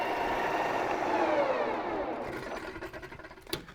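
A worn junk lathe spins at 1080 rpm with a steady whirring hum and faint rattle, winding down gradually, followed by a few light clicks and a sharp knock near the end.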